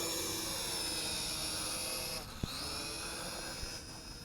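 An SHRC SH7 FPV drone spools up as throttle is applied for takeoff, a steady high motor whine and hiss holding throughout with a brief dip and small knock midway, fairly close and without talk.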